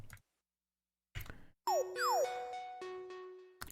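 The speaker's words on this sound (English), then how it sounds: "We have these, which are the paradise bells that I recreated in Serum." Paradise bells synth patch recreated in Serum, a few bright bell strikes and gliding pitch sweeps ringing out into sustained shimmering tones, heard alone after a brief silence.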